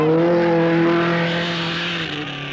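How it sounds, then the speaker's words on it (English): An Opel Ascona rally car at the 1972 Monte-Carlo Rally, its engine holding a loud steady high-revving note that fades slightly as it passes. "Ragnotti in an Opel Ascona"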